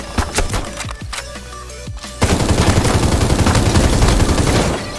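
Gunfire in the mech shooter game Super Mecha Champions: a few separate loud shots at first, then a dense, rapid automatic burst that rattles on without pause for the last few seconds.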